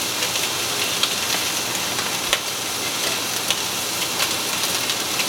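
Steak searing in a hot pan gives a steady, close sizzle with faint crackles and pops, no voices over it.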